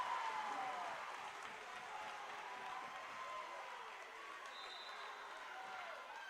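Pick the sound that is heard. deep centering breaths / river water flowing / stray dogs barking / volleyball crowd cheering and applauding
volleyball crowd cheering and applauding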